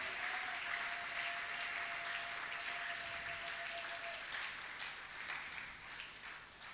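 A church congregation applauding the king, sustained dense clapping from a large crowd with a faint tone and cheering underneath, steady throughout.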